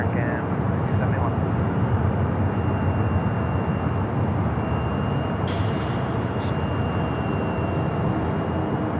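Airliner taking off from runway 24 left at Los Angeles International Airport, a loud, continuous broadband engine roar that holds steady throughout, heard from nearby.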